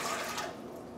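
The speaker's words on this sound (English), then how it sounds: "For this recipe, we'll add 1 cup of warm water" Warm water poured from a cup for pizza dough, a brief close splashing pour that tapers off within a second, no voices.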